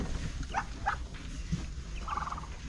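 Bitik, a goose with duck lineage, black and white, giving a few short nasal honking calls spaced apart over low background noise, faint and fairly close.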